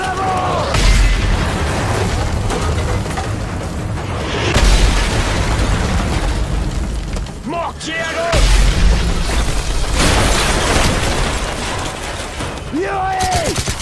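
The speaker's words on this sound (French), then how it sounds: "Tire de mortier à droite ! Tire de mortier !" Heavy mortar explosions rock a battlefield in Call of Duty: Modern Warfare 3, several deep booming blasts spaced across the stretch amid continuous combat noise, with voices shouting over the din.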